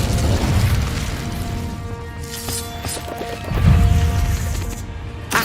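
An Incendio fire spell is cast in Hogwarts Legacy, giving crashing, bursting impacts with a heavy low whoosh midway, set against steady game ambience and scattered metallic clinks.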